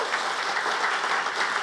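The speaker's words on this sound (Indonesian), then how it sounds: "Beri tepuk tangan dulu buat Tuhan Yesus." A church congregation at a Sunday worship service in Batam claps for Jesus; a short, dense burst of many hands clapping at once, loud and continuous from start to end.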